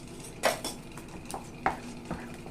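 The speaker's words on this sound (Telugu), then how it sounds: "ఇది ఇలాగా సన్న మంట మీద ఉండలు లేకుండా కలుపుతూనే ఉండాలండి" Jaggery ragi topa is stirred in a pan over a low flame, with a few distinct scraping and clinking strokes of a spoon against the pan over a quiet background.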